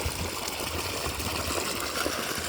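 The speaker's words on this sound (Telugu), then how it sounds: "చూడండి వర్షం చూడండి." Rain falls in a steady, even hiss with no breaks and no voices, a dense wash of sound close by.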